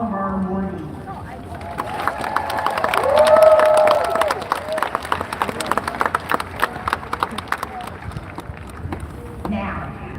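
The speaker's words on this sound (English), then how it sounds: "Please join me in another round of applause for all of our awardees." Audience applause at the UCLA David Geffen School of Medicine 2025 graduation, honouring medical school awardees: a large crowd claps steadily for about ten seconds, swelling midway, with background voices and music-like tones mixed in.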